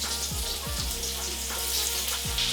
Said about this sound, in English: I'm gonna go ahead and throw in my sausage